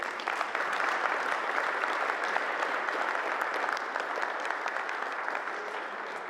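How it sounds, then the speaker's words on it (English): Steady, dense audience applause fills the room at a school board candidate forum, sustained and even throughout with no voices standing out. "So a round of applause for me, please."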